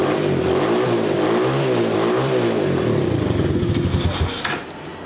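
A 125cc four-stroke quad bike ATV engine runs loud and close, its deep bassy note wavering as the revs rise and fall, then settling into a rougher idle.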